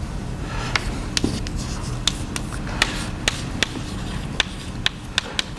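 Hand-writing a chemistry calculation for hydronium ion molarity, heard as a string of light, scattered pen or chalk taps and short scratches over a steady low hum, with no voices.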